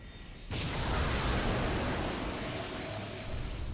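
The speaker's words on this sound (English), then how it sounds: "Set all 4 Triton engines to full throttle." Four Triton engines roar at full throttle in the Fate/Grand Order video game, a sudden dense broadband rumble that kicks in abruptly and holds loud and steady, with no voices.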